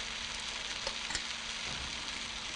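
Bean sprouts fry in a hot pan with softened leeks, ginger and spices, giving a steady, close, dense sizzle with faint stirring, and no voices over it.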